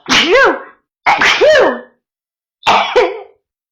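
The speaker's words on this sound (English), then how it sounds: "I didn't want to sneeze in your guys' faces." Three explosive sneezes from one person, close and loud, each a sharp burst with a breathy tail, the first two about a second apart and the third after a short pause.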